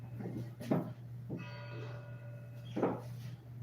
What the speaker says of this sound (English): There the bells of the church are ringing.